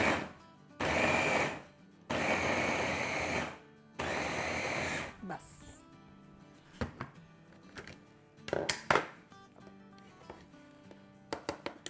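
Bursts from an electric chopper crushing boiled potatoes: three loud, close whirring runs of about a second or two each, separated by pauses, followed by clattering handling knocks and brief talking.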